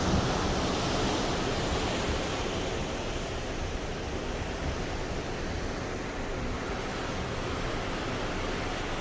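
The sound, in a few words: ocean water at night from cruise ship balcony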